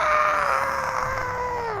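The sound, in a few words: animated sword yelling and screaming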